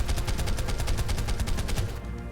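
Rapid, continuous machine gun fire from a video game dungeon crawl, a steady stream of evenly spaced loud bursts for about two seconds, then stopping abruptly.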